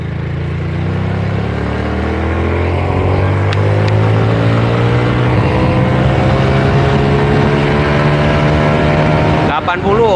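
A Yamaha Force motorcycle pulls hard in second gear, its engine note rising steadily in pitch as it accelerates, loud and close with wind rush, ending in a brief rattling shift or throttle drop.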